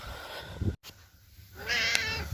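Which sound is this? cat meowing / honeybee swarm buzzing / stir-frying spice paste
cat meowing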